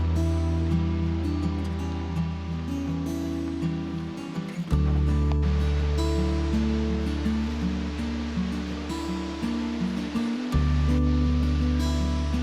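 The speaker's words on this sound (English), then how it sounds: "Our third stop today is a waterfall." A waterfall pours in a steady loud rush of falling water close by, a continuous broadband roar with a low rumble beneath and no voices.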